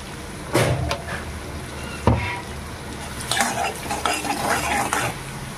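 Sliced onions frying in a pan for a chicken 65 dish, a soft continuous sizzle broken by several scraping stirs of a spatula against the metal, close and fairly quiet.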